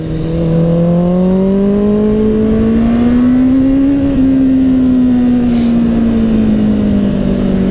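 Kawasaki Z800e motorcycle engine pulling steadily under acceleration while ridden, a loud continuous drone whose pitch rises slowly then eases off, close and unbroken with no talk.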